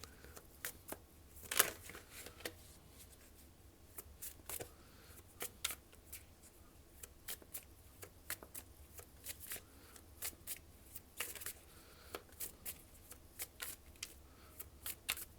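A deck of tarot cards shuffled by hand, a steady run of papery riffles and flicks with sharper slaps now and then, close and soft, with no talking.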